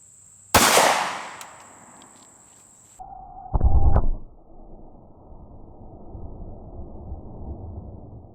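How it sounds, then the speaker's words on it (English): A .45 pistol fires hollow point rounds into a gel block, giving one sharp, loud shot followed by a second burst a few seconds later, with ringing and a quieter room tail afterward. "this is why I wanted to shoot these into a different gel block"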